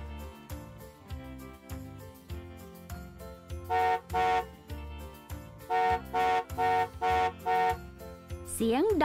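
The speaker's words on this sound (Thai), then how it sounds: "เสียงแตรรถดังปีนปีน" A car horn honks in several short, loud, paired blasts with brief gaps between them, sounding over a steady musical backing.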